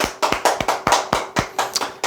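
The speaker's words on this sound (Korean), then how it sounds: "박수 한번 칩시다." A small audience claps in a quick, regular rhythm, about ten sharp claps in a row, close and distinct with no talking over them.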